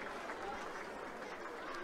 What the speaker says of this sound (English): And there is the applause.